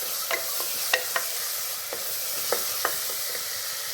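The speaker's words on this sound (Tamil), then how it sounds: "அடுத்து இஞ்சி பூண்டு விழுது, அதையும் நல்லா வதக்கிக்கணும்" Ginger-garlic paste sautés with onions in a pan for ghee rice, giving a soft continuous sizzle with scattered spoon taps and scrapes against the metal.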